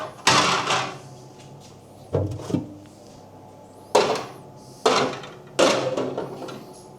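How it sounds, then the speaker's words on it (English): Shelves and a crisper drawer pulled out of a Westinghouse fridge make a series of sharp plastic clunks and knocks, about five or six separate bangs with short scraping tails and quiet gaps between them. "the first thing we're going to do is strip out all of these shelves and the crisper drawer"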